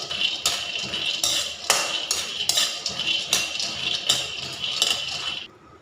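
Spoon or spatula stirring peanuts as they roast in a pan for Lao vegetable soup: repeated metallic scrapes and clinks in an irregular rhythm over a steady rustle, close and fairly loud, with no talking.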